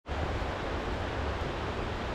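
A mountain stream flows steadily through the Pyrenees in France, a loud, constant broadband rush of water that holds even from start to finish with no voices over it.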